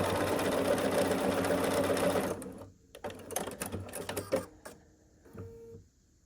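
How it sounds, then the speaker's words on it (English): A sewing machine runs steadily for a couple of seconds as it stitches a quilt block seam, then stops, leaving close rustling of fabric and handling clicks. "Keep sewing along this side."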